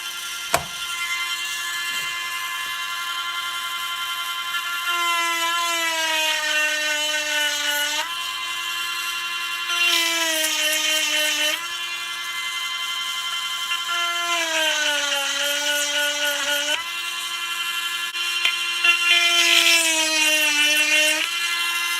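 A Princess Auto/Harbor Freight 12 V chainsaw sharpener runs with a steady electric motor whine, its pitch dipping and rising in repeated cycles as the grinding wheel loads, close and continuous with no talking.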